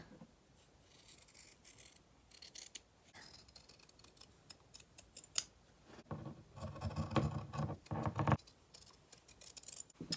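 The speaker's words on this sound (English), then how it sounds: "we're going to take our scissors and we're just going to trim the corners" Scissors snip and crunch through fabric, trimming the corners of a pillow slipcover in a quick burst of cuts, close by, with faint handling noise before and no talking.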